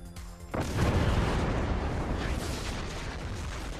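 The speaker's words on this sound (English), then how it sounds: "I began the game and there was already an explosion." Explosion in the video game Far Cry 5: a sudden loud boom bursts in after a short lead-in, followed by a long rumbling, crackling roar that slowly fades, with no talk.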